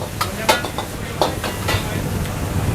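Puyung hai, a Chinese-Indonesian egg foo young, fries in a pan in a busy eatery kitchen, a steady sizzle under repeated sharp clinks and scrapes of a utensil against the pan.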